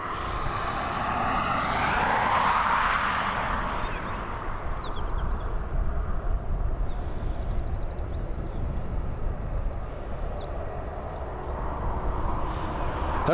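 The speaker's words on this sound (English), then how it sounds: "We're heading over to Dusseldorf with this Airbus A320" An Airbus A320 jet departing Dublin for Dusseldorf makes a moderate engine roar that swells early and then settles into a steady distant rumble, with faint chirps in the background.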